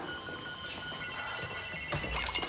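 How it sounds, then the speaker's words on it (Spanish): A telephone rings in a film scene, a steady electronic ring running throughout with a burst of louder noise near the end; no one speaks. "¡Atiendan ese teléfono!"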